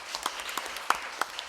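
A few scattered claps ring out in an irregular, sparse patter, like brief applause from a small group indoors.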